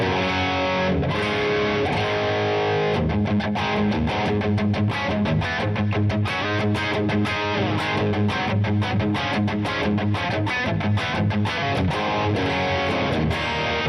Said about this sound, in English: using the Les Paul here right now with this preset, you can see I've got a distortion pedal